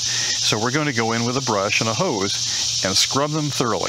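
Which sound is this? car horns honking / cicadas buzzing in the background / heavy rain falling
cicadas buzzing in the background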